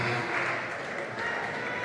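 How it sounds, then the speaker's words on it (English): Crowd at a youth bouldering competition final in Kaunas cheering and applauding, a steady wash of clapping and shouts that carries on throughout, with a commentator's voice faintly underneath. "It's getting more and more cheering for athletes."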